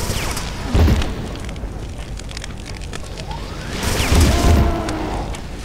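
Gunfire and explosive blasts in the video game Brutal Doom sound as two loud booming bursts with crackling tails, separated by a stretch of rumbling game noise.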